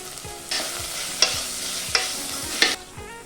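Vegetables with biryani masala fry in a lightly oiled pan with a steady sizzle, while a utensil stirs and scrapes several times in a regular rhythm, close up and with no talking.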